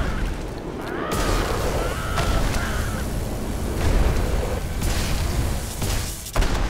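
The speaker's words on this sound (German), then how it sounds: "Ich bin schon wieder explodiert!" A video game explosion in Magicka bursts as a sustained roaring blast with crackling debris, loud and close over a noisy battle scene.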